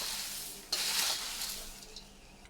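Puffed rice boondi and peanuts are tossed together in a bowl, giving a dry rustling, crackling stir that sharpens into a louder scraping burst partway through.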